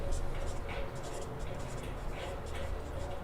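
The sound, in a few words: pen writing on paper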